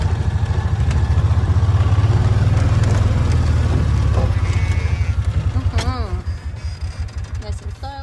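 Pastured sheep bleating on a farm at watering time: a few wavering bleats come through over a loud, throbbing engine drone that fades toward the end, with someone speaking nearby.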